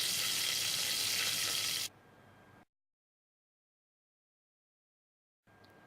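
Garlic sizzling in hot oil with hing, jeera and curry leaves, a loud steady frying hiss that drops suddenly and falls silent for a few seconds before quieter sizzling resumes.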